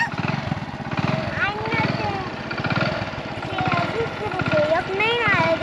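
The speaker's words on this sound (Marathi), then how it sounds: "बंद करा मोटर" A water pump motor at a farm well runs with a steady, pulsing drone under continuous talk from a child and adults.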